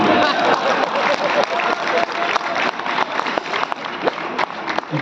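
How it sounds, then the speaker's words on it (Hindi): Audience at a Hindi poetry gathering (kavi sammelan) in Satna, clapping loudly and continuously for several seconds with dense, close applause and some crowd noise. "आप ताली बजा दीजिएगा"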